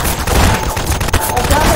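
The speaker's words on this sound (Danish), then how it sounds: "Vi skal skyde soldaterne herover." Rapid gunfire crackles in a video game as players shoot at soldiers, a dense, loud stream of shots with sharp bursts over a constant roar, with a voice faintly underneath.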